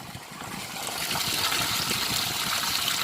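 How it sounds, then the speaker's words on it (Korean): Seawater gushing steadily into a water container at a harbour, a continuous hissing pour close by that grows slightly louder and fuller partway through. "바닷물을 받고 있습니다"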